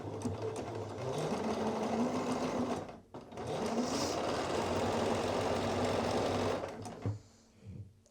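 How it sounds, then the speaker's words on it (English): A sewing machine stitching through twill tape runs in a steady, close whirring buzz, pausing briefly midway, then stopping near the end. "we're just going to sew right through the middle of the twill tape"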